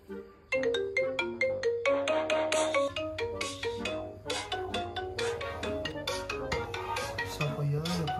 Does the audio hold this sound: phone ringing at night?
yes